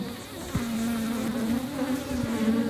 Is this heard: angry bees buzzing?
yes